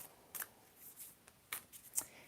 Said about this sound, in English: I'm shuffling the cards for you right now.